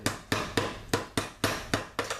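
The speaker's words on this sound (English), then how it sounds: "I just take the hammer carefully" A hammer strikes a steel clamp on the front end of a 1973–76 Mopar A-body, about eight sharp, evenly paced metallic blows ringing close and loud in a garage.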